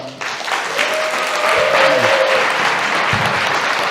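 Big applause from the audience at a 2020 conservative conference after a talk ends, a full crowd clapping steadily and loudly throughout, with a brief voice underneath near the start.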